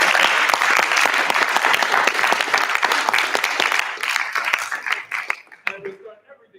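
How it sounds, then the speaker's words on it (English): An audience claps and applauds loudly and steadily during a casual live show, with dense continuous clapping that thins out and fades near the end. "Let's clap Ashlyn back."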